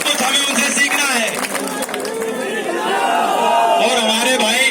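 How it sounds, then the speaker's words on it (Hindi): A large crowd at a farmers' mahapanchayat rally in Muzaffarnagar roars and cheers continuously with clapping mixed in, a loud, dense wall of voices filling the whole stretch. "हरियाणा के कुछ साथियों में चाहता हूं उनके लिए आप विशेष ताली बजाओ"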